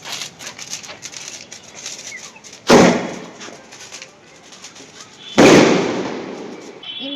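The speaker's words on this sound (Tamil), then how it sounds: "at last we have 2 inch sky shots" Two 2-inch sky shot fireworks go off during a Diwali cracker test, each a sharp, loud crack that decays into a crackling tail, with faint chatter and ambient noise between them.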